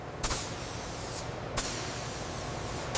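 Spray gun applying coating to a ship hull near a weld, a steady broad hiss running throughout with a few sharper bursts of spray pressure.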